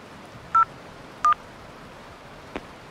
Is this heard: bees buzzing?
no